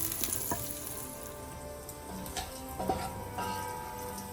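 Bacon fries in oil in a pan, a steady close sizzle with scattered crackles and small pops and no talking.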